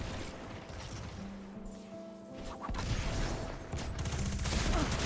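Gunfire and impact bursts in the Destiny 2 beta, with the Nightshade weapon in play, sounding as dense crackling volleys that grow louder over the second half, mixed with mechanical game effects and no talk.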